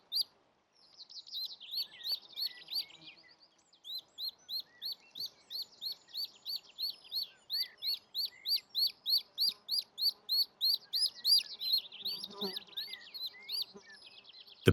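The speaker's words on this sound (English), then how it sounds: "In the booted eagle's nest, the chicks are growing quickly." Booted eagle chicks in their nest give a long series of high, thin, rhythmic chirps, steady and fairly close, with faint background sounds underneath.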